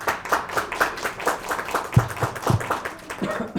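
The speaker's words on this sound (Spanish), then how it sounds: "recibamos con un aplauso" A lecture audience gives a short round of applause, brisk scattered clapping close by and fairly soft, welcoming a speaker to a talk.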